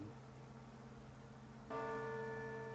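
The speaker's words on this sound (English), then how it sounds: "A bell rang." A bell tolls in the Soul Nomad and the World Eaters video game, a faint, sustained metallic ring that swells partway through over a low, droning musical background.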